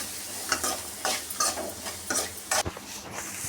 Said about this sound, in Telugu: అవి బ్రౌనిష్ వచ్చే వరకు వేయించుకోండి ఫ్రెండ్స్